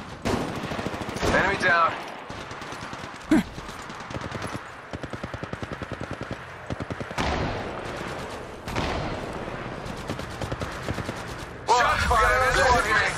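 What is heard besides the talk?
gunfire in the video game Apex Legends Mobile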